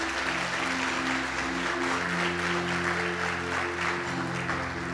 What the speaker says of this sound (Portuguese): Aplauda o Espírito Santo um pouquinho.